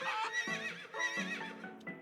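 A horse whinnies in a video game, a bright, wavering neigh with rising and falling pitch that lasts about two seconds, with a few soft hoof-like knocks under it; fairly quiet and clean, no talking.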